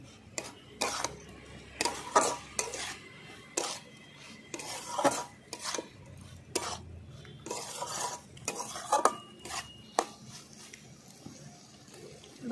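A spoon stirs ground peanuts into fenugreek greens with potatoes and beans in a pan, giving irregular scraping clinks against metal and a faint sizzle underneath, close and moderately loud.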